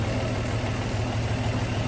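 A CM Regal engine idles smoothly nearby, a steady low, even chugging rumble with no talk over it.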